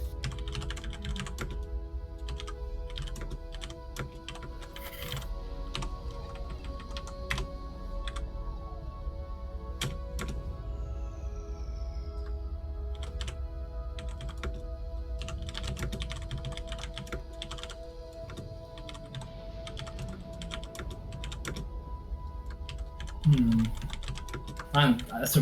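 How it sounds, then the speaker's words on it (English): Computer keyboard typing runs steadily throughout as rapid, close clicks with a few heavier thunks near the end, under a constant background hum. "That's a worrying amount of typing"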